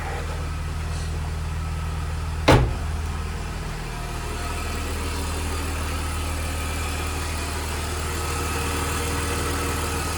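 A BMW E46 320ci convertible engine idles smoothly and steadily under an open hood, heard up close with a low even hum and a single sharp knock early on.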